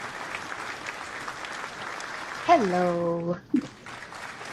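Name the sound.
audience applauding as a senator comes up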